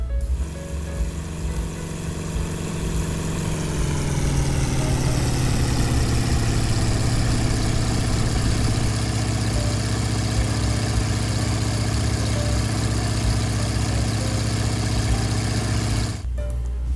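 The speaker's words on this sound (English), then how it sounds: "flip on your engine switch, and throttle up" An airplane engine in a flight simulator game idles steadily, then throttles up to a louder, rising drone that holds loud and close for most of the clip before cutting off near the end.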